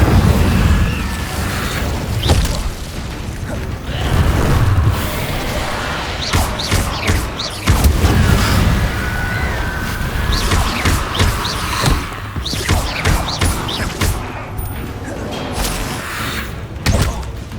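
Incendio fire spells cast in Hogwarts Legacy on PS5, a loud run of booming blasts and thuds repeating through a hectic fight, with crackling bursts between impacts.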